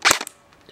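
A KWA Ronin TK-45 airsoft pistol fires a single 0.25 BB, a sharp, loud, close pop with a quick mechanical snap after it, then a short quiet tail.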